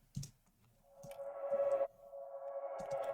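A wavy, repeating synth tone from the original drum and bass track plays in sustained notes with a pulsing shimmer, broken by a few sharp clicks, clear and alone.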